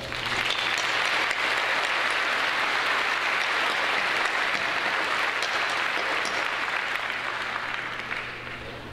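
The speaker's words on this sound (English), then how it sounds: "please give them a round of applause" A large crowd at a high school graduation ceremony claps for the John Glenn and Career Tech staff, a sustained, full round of applause that stays strong and eases slightly near the end.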